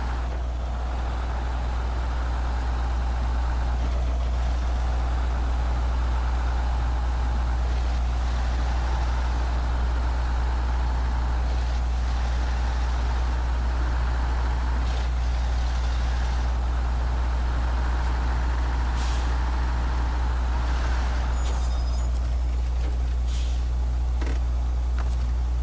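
A truck engine drones steadily as it drives over ice in the snowy off-road game SnowRunner, a continuous low rumble with shifting pitch and a few brief clanks, heard alone with no talk.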